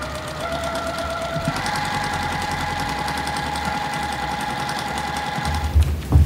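A sewing machine runs steadily, stitching jelly roll quilt strips with right sides together, its fast rhythmic needle chatter close and loud before a few heavier clunks at the end.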